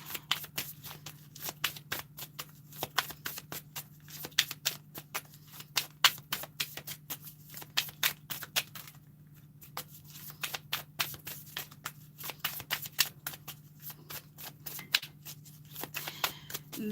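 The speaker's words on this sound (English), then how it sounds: "I'll pull one advice card" Advice cards shuffled for a tarot-style reading, rapid close riffling and slapping of cards in irregular bursts over a faint steady hum, with brief pauses.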